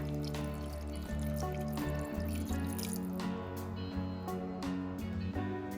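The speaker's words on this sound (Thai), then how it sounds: "พอเนื้อหมูไม่มีสีแดงแล้วเราก็ใส่น้ำหรือน้ำซุปค่ะ" Water or stock poured into a pan of stir-fried pork for Japanese curry, giving a steady liquid trickle and splash with small drips, close and continuous without talk.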